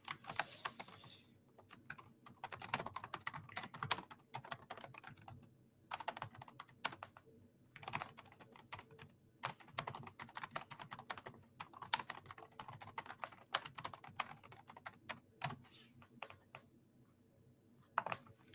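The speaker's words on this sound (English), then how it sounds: "Let me type it up." Typing on a computer keyboard during an Easter Monday livestream, with rapid bursts of close, crisp keystrokes broken by short pauses and no speech.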